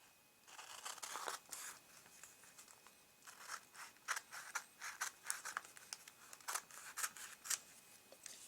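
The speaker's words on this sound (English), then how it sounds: "I'm just going to go ahead and grab a pair of scissors and cut off what I don't need." Scissors cutting card stock while trimming pieces for a handmade black roses wedding card, heard as a quiet run of crisp, repeated snips and slicing strokes with no talking.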